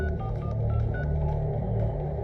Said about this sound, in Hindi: नागेश को फोन लगाओ